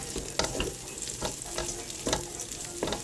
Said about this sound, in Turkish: Böyle de bir 5 dakika kavuracağım.